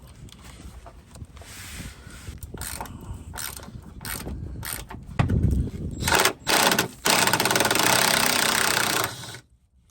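Ratchet wrench clicking as it backs out 13mm bolts from the running board mounts on a Ford Bronco, bursts of rapid ratcheting at close range with short pauses between strokes, no talking.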